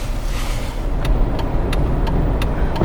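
A Jeep on 37-inch BF Goodrich AT tires rolls along a snowy road, its engine and tire roar a steady low rumble heard from inside, with faint rhythmic ticking clicks repeating over it.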